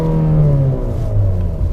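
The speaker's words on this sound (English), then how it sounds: "you get a nice exhaust note when you put the car in sport mode and give it a little kick" A turbocharged 2019 Infiniti QX50 in sport mode gives a deep, steady engine and exhaust drone, loud and close, with a slight dip in pitch over a short stretch.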